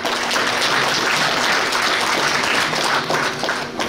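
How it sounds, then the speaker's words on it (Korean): Sustained, fairly loud audience applause at a Korean political rally, with steady dense clapping from a crowd and no speech, easing slightly toward the end. "호명하실 때마다 큰 박수로 부탁드리겠습니다."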